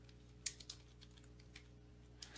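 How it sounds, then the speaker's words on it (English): Quiet, sparse keystrokes on a computer keyboard while a name is entered into a field in admin software, a handful of soft separate clicks spread over a couple of seconds with no talking. "So I do that by simply just typing in the name in the name field and selecting OK."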